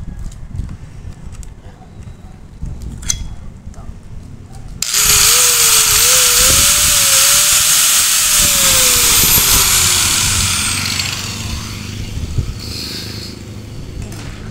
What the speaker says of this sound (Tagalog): Testingin natin ito. Grinder. Para malaman talaga na naandar yan.